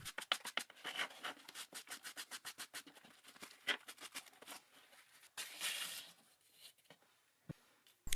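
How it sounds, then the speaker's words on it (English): Cloth soaked in acetone wipes down metal surfaces of a 7x12 mini lathe headstock. Quick, close, rhythmic rubbing strokes come in a run of bursts, then slow to a few scattered swipes before a longer smear. "All these surfaces now get wiped down with acetone to make sure they're free of contaminants."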